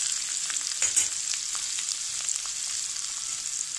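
Garlic pieces and grated ginger frying in a pan for a broccoli tomato curry, a steady close sizzle with soft crackle and a brief louder flare near the start, no talking.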